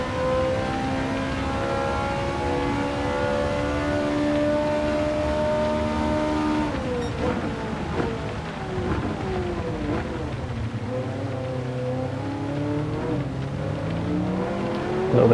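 A World Touring Car in Gran Turismo 7 accelerates hard out of a corner, its engine note climbing steadily through the rev range, then shifting and revving on again with continuous loud mechanical whine and no talk.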